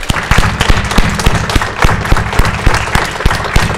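An audience at the NOTACON 3 hacker conference claps steadily, a dense patter of many hands applauding together at moderate loudness.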